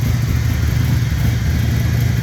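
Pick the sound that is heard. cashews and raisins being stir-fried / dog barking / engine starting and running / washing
engine starting and running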